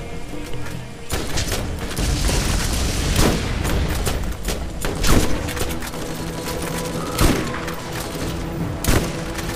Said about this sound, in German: ich probier grad mal meine neue Waffe aus. So, mein Revolver.